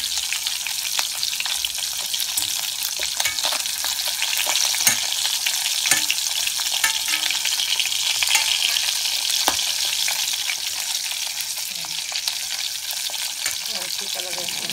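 Cornstarch-coated pork pieces fry in hot oil for sweet and sour pork, giving a dense, continuous crackling sizzle with scattered pops, loud and close, running without pause and no clear speech over it.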